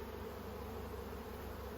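Honeybees buzz in an opened hive full of bee bread and nectar, a steady, close, continuous hum that stays even throughout with no voices.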